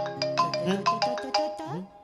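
A melodic mobile phone ringtone plays a quick repeating sequence of bright electronic tones, close and clear, for about two seconds.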